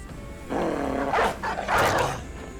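A dog barks and growls close by, a run of rough, loud barks in two or three bursts with brief gaps between them.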